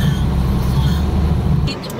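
A car being driven, its steady low engine drone and road rumble filling the cabin at constant level, with faint voices in the background.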